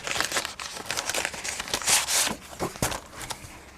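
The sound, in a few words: crinkling product packaging being opened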